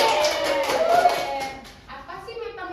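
A classroom of children claps for a student named Cindy: a brief burst of scattered clapping up close, fading into a teacher's voice speaking Indonesian.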